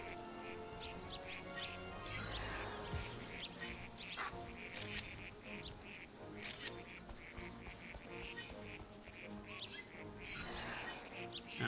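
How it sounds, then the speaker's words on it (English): Ducks quack in the video game New Pokemon Snap, a cluster of calls with other bird chirps over game music, moderately loud and continuing throughout, no talking. "I hear ducks. Ducks, chat, ducks."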